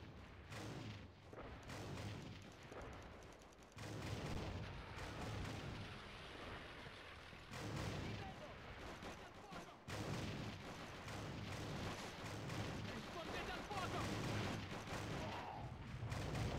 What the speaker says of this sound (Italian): Quei cannoni antiaerei stanno distruggendo i nostri alianti!